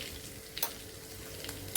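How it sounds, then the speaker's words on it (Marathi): Garlic frying in hot oil as coriander leaves and turmeric go into the pan, a steady soft sizzle with a few brief stirring scrapes and clinks. "आपला लसूण पण छानपैकी तळून झालेला आहे आणि थोडीशी कोथिंबीर टाकते आणि हळद"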